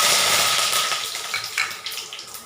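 Garlic and curry leaves hit hot oil in a pan for a village-style guar dish, giving a loud hissing sizzle that starts strong and slowly fades, with crackling pops scattered through it.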